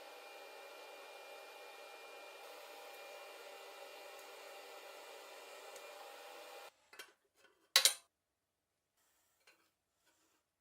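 An electric drill drives bolts to fasten a black metal cover on a custom steel-tube three-wheeled off-road motorcycle, giving a steady motor whine for about seven seconds that cuts off, followed by a short metallic clatter and near silence.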